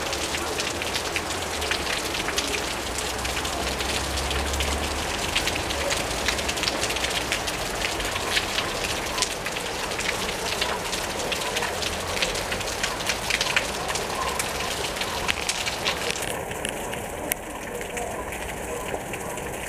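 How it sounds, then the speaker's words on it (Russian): Light rain patters steadily across a city park in Kentau on a partly cloudy June morning, a continuous soft hiss of drops with faint background voices. "Переменная облачность, небольшие дожди."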